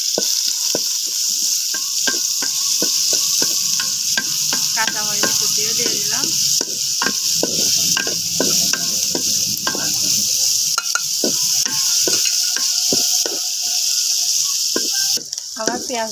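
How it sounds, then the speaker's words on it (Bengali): Bay leaves, cloves, cinnamon, cardamom, chopped onion and garlic fry in a pan with a loud, steady sizzle. Repeated sharp scrapes and clicks of a spatula stirring sound throughout, up close. "আমি তেজপাতাগুলো দিয়ে দিচ্ছি আর লবঙ্গ ডালচিনি এলাচগুলোও দিয়ে দিলাম দিয়ে দিলাম পেঁয়াজ কুচি আর রসুন কুচি"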